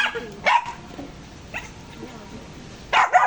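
Oreo, a pet dog, gives a few short yips and barks close by, in scattered bursts with quiet rustling between them, while a person talks.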